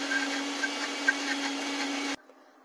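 A blender grinding tomatoes into paste, a loud continuous whirring motor drone with slight pulsing, cutting off abruptly near the end into quiet.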